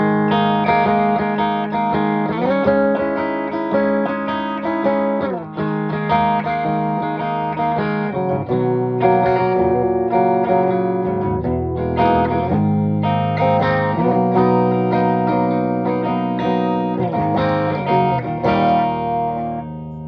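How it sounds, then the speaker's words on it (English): An electric guitar played through a Mesa Badlander 25-watt head with reverb, delay and chorus rings out in sustained chords and melodic lines, loud and continuous with a shimmering, spacious tail. "Reverb, delay, and chorus."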